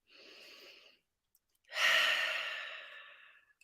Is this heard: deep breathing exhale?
yes